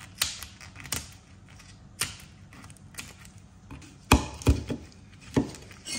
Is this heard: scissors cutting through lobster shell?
yes